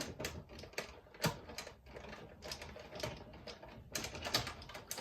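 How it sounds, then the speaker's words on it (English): A die cutting machine works through a stamp with adhesive backing, making a quiet, continuous mechanical clatter of quick clicks and rattles, with no speech. "you may need to cut through, do several passes on the die cutting machine"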